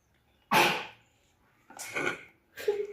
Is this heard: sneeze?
yes